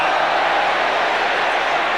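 Collingwood football crowd at a 1990 AFL match against St Kilda roars in a steady, dense wash of voices, sustained and loud for the whole stretch with no single voice standing out.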